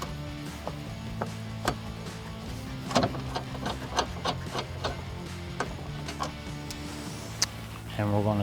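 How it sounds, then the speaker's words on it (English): A 13mm bolt being removed with a wrench on a 2014-2018 Silverado or Sierra V8 engine bay, light ratcheting ticks and scattered metallic taps under a steady background hum. "we're going to remove this 13mm bolt here"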